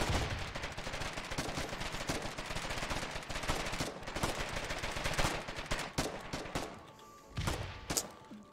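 Grenade launcher blasts and sustained automatic gunfire in a video game battle, a dense continuous barrage of shots that thins out near the end into a few separate loud bursts.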